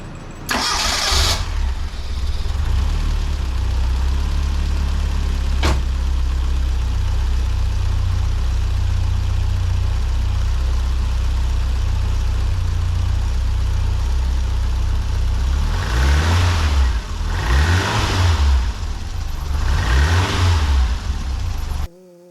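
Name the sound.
1984 Bertone X1/9 engine started, idling and revving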